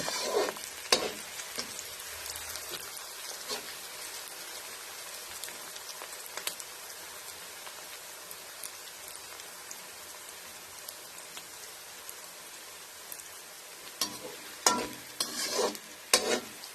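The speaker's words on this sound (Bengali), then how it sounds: "পেঁয়াজটা ভালো করে ভেজে তারপর তুলে নেব।" Onion frying in a pan for a brinjal and tomato bhorta gives a soft, constant sizzle with occasional crackles, broken by clusters of louder scraping and clattering as a spatula stirs it, most busily near the end.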